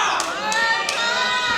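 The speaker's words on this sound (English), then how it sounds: "Crowd urging Erica to go." A wrestling crowd yells and cheers, urging a female wrestler on, with high shouting voices, children among them, and a few sharp claps punctuating a continuous close roar.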